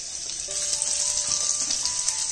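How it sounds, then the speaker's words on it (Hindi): Garlic sizzles in about two spoons of hot oil in a preheated pan, a steady bright crackling hiss held close and continuous with no talk. "फिर इसमें हम जो गार्लिक है वो डाल देंगे।"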